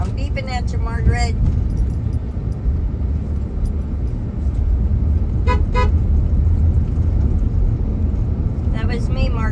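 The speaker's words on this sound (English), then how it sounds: "I'm gonna beep at Margaret." Car horn beeps several times from inside a vehicle, a short burst near the start, another around the middle and one more at the end, over steady road and engine rumble while a person talks.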